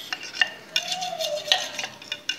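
Homemade food dye mixture being stirred at home, with soft repeated scraping and clinks of a utensil against a container, close and fairly quiet with no talking.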